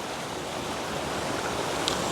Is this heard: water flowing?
yes